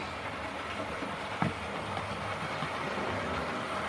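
A Hornby model locomotive runs along its track, giving a steady, fairly faint mechanical rumble with a single sharp click near the middle.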